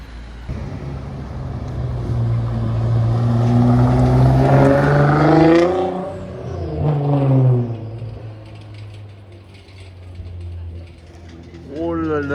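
A Caterham 7 sports car engine revs loudly nearby, rising to a sharp roar and a second burst before fading to a low idle, with a brief voice at the end.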